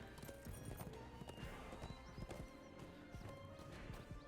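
Horse hooves in The Lord of the Rings Online video game clip-clop in a fast, steady rhythm, with sharp repeated thuds and occasional crashing impacts over a busy background.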